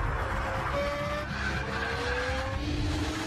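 Tires of a Nissan GT-R supercar squeal in a few drawn-out skids over a steady engine and road roar, moderately loud and somewhat distant.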